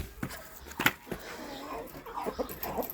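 Hungry laying hens, including Australorps, cluck in a chicken coop during egg collection. Close, busy clucking and short squawks run throughout with rustling underneath.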